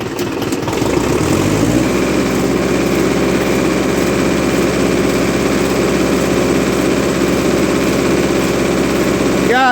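A 1958 Oliver 550 diesel tractor engine starts and then runs at a steady fast idle after a governor adjustment, loud and close, with a constant low rumble throughout.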